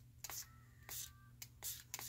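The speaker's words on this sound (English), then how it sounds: "I'm going to spray a little bit more on this corner over here" A few short hissing spray bursts from an aerosol can of paint onto paper, about four quick sprays with brief gaps, fairly quiet.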